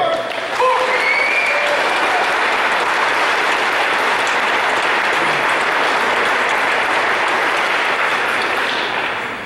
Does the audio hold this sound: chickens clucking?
no